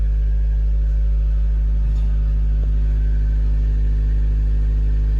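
A Honda Civic VTi EG with a DOHC VTEC engine idles steadily close by, a constant low drone with no revving and no talk.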